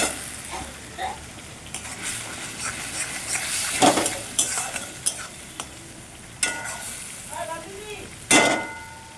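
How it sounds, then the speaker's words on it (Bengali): A katla fish curry seasoned with turmeric and salt is stirred in a frying pan, giving a soft sizzle beneath scraping strokes, with sharper clinks of the spoon against the metal now and then. "এখন আমি ভালো করে নাড়াচাড়া করে নেব"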